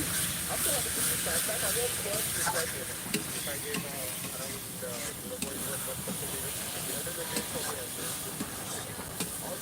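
Meat dropped into a hot pan hisses and sizzles loudly as steam rises, a continuous close frying noise with stirring clatter, and a voice talks over it.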